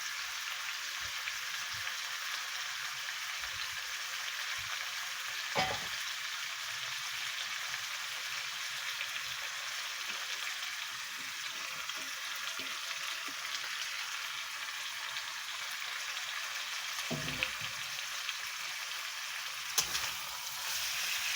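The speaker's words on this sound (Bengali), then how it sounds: "এটাকে ভালো করে কষাতে হবে" Spiced chicken pieces fry in a pan for Bengali kosha, giving a steady bright sizzle with occasional stirring knocks against the pan.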